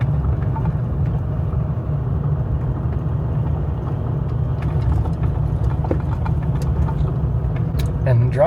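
A four-wheel drive vehicle on a Georgia backroad with a steady, close low engine rumble and road noise throughout, plus faint rattles and bumps from the cabin.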